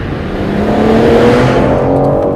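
A 2021 BMW M4 Competition's turbocharged engine revs smoothly and steadily, with a loud, continuous tone climbing gradually in pitch with no pauses or voices.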